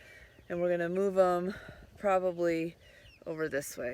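Penned backyard chickens, unhappy about still being confined, cluck and chirp in the background while a person talks over them close by.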